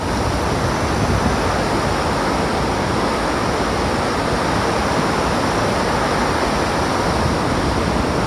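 Strong wind roars steadily across the microphone on a breezy day along the Appalachian Trail, a loud, unbroken rush with no voices.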